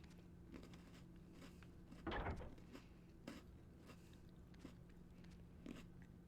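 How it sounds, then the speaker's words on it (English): Close chewing and biting on a snack right by the microphone, one louder crunchy burst in the middle and softer mouth sounds and small clicks scattered around it, over a low steady hum. "if my chewing's like too loud"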